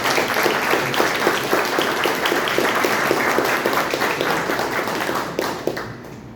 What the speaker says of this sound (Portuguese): dando uma salva de palmas para Jesus.